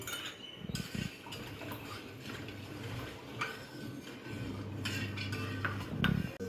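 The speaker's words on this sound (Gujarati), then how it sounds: "પછી ગરમ દૂધમાં રેડતા જઈ અને ખૂબ જ હલાવો કે ગાંઠા ના પડવા જોઈએ" A metal spoon stirs and scrapes inside a pot of custard and milk for falooda, with light clinks and a steady swirling scrape that builds in the later part, close and moderately loud with no talking.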